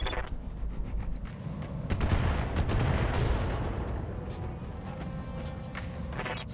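Mech weapons fire in the Battletech video game with the Roguetech mod: a dense, rumbling barrage of overlapping blasts and impacts rolling on for several seconds, with no talk.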